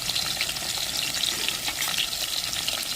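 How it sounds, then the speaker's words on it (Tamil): Chopped onion and green chillies sizzle steadily in hot oil for a home-style fish curry masala, a continuous close crackle with small popping bursts and no voices. "எண்ணெயிலே வெங்காயம், தக்காளி, பச்சை மிளகாய் 2 வறுக்கணும்."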